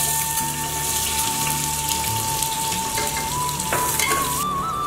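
Sliced onion dropped into hot tempering oil for Kolhapuri-style mutton khichdi, giving a steady close sizzle and crackle that holds through the clip with faint stirring, no talk.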